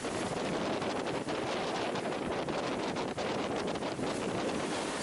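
Strong wind of just over 20 knots blowing across a sailboat at anchor off the western tip of Grand Bahama, a dense unbroken rush of gusts and microphone buffeting, loud and close, no talking.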